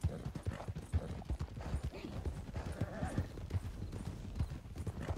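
Horses gallop in the open-world game Red Dead Redemption 2, with a steady, rapid clip-clop of hooves running through the whole stretch and a brief whinny, all fairly close and loud.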